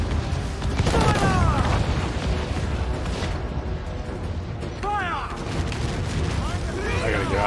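Ship cannons boom in a broadside battle at sea in Assassin's Creed IV Black Flag, heavy blasts rolling one after another with dense rumbling and crackling debris, mixed with other battle noise and some voices.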